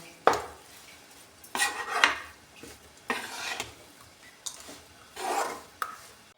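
Besan (gram flour) being stirred and roasted in ghee in a pan for panjiri, giving repeated scraping, rubbing strokes of a utensil against the pan at close range, with no talk.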